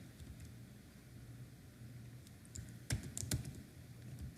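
Someone types on a computer keyboard, producing a few quiet clicks and then two sharper, closer keystrokes over a faint background hum.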